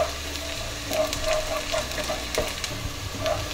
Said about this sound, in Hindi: इसमें अब हम डालेंगे 1 टीस्पून लहसुन का पेस्ट, ये इसमें डाल देंगे और इसको भी हम प्याज के साथ फ्राई करेंगे